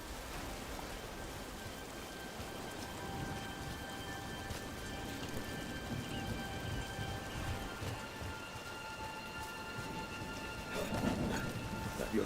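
Steady rain in the video game Dragon Age: The Veilguard patters across the whole scene, with low thunder rumbling beneath it and swelling louder near the end, no speech.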